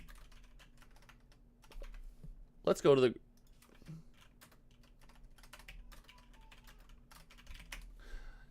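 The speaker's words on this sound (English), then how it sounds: "It's really hard to type when the keyboard is like, I have to reach up over the setup and do some gymnastics." Quick bursts of clicky computer keyboard typing, fairly close, interrupted by a brief spoken phrase partway through.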